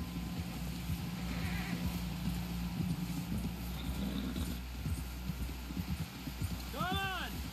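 Horse hooves clip-clop steadily on the ground in the Red Dead Redemption 2 game, moderately close and soft beneath ambient background sound, with a brief animal call near the end.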